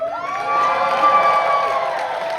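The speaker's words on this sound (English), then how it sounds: "Hold for minimal applause." A convention panel audience at a haunt and Halloween event cheers and whoops in a sustained, loud crowd roar with high shouting voices, steady throughout with no talk over it.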